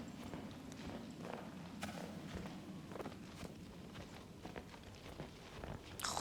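Footsteps crunching through snow in a mountain setting, a steady series of soft, close crunches at a walking pace, quiet and alone.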